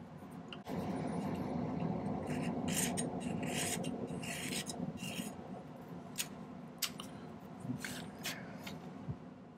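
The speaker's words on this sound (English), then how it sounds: "First, let's file the edge." Metal file rasping along the edge of a silver ring during silversmithing, a steady close scraping texture with brief sharp clicks in the second half.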